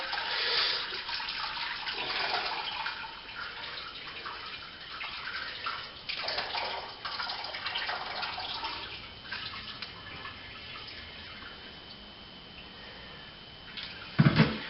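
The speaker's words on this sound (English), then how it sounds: "this is just to rinse the grains out, get all that sweet sugar out" Hot water, just off the boil, pours steadily over brewing grains to rinse out the sugars for a partial-mash Pilsner, a continuous close splashing rush with a few brief knocks near the end.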